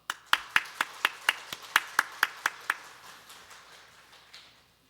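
A church congregation claps in unison at a Sunday worship service, about a dozen sharp, evenly spaced claps that fade into scattered, softer clapping before ending, fairly faint and with no talking.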